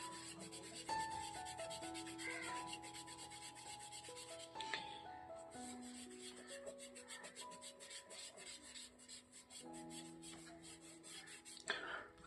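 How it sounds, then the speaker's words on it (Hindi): A drawing is rubbed in circular strokes to blend pencil shading, giving a faint, close, repeated scratchy swishing that runs on and off under soft background music. "मैं कैसे रब कर रहा हूँ सर्कुलर मोशन में"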